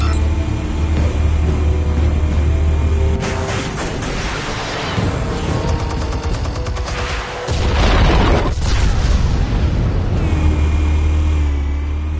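Explosives detonate in the Batman Telltale video game, a loud deep rumbling boom with crackling debris that swells across the middle of the clip over a constant low drone.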